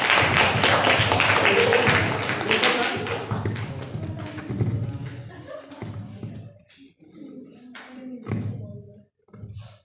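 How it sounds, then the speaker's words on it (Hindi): Loud, sustained applause from a crowd at a National Voters Day event, a dense wash of clapping that fades over several seconds into scattered claps and thumps. "जोरदार तालियां के साथ।"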